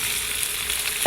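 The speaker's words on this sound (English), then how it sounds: "Now I'm going to stir fry these now for 3 or 4 minutes." Potatoes and cauliflower fry in ghee in a pan, a steady close hiss and crackle that runs throughout with no pause, the sizzle swelling briefly at the very end.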